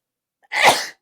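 One short, sharp sneeze bursts out close by, then silence.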